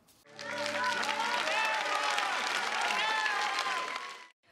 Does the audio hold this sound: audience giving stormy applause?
yes